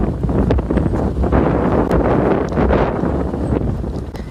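Strong gusts buffet an outdoor microphone on a sandy African safari drive at sunrise, a loud continuous low roar with surges and dips throughout.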